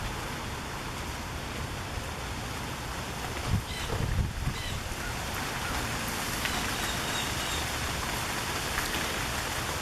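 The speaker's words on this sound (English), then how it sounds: "And the heavens just opened up. Look at the rain." Heavy summer thunderstorm downpour pounding steadily on a carport and surrounding surfaces, a dense continuous roar of rain with a slight wind rumble, close and loud throughout with no talk.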